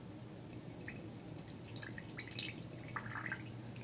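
Ale-8 soft drink poured from a can into a dinosaur-shaped mug, a faint, close fizzing trickle with scattered drips and bubbly crackles.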